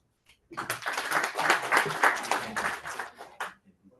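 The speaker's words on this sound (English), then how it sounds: "a round of applause for Emily as she gives us the evaluation on Vanessa's icebreaker." Toastmasters club meeting audience breaking into applause for a few seconds, a rising burst of many hands clapping that swells and then tapers off abruptly into quiet.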